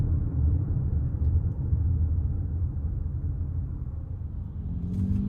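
A 2025 Toyota Highlander Hybrid XLE AWD pulls away from a stop, heard from inside the cabin as a steady low rumble and road hum that stays smooth and even, with only a faint rising whine near the end.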